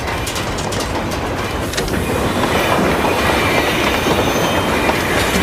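A fast train rumbles past continuously at close range, a dense roar with rattling wheels and faint metallic squeals, no voices.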